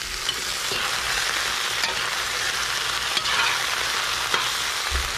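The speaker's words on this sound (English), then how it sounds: "the whole time we're stirring our food" Sweet potato noodles with shrimp and vegetables stir-frying in a pan, a loud, steady close sizzle broken by occasional scrapes and knocks of stirring.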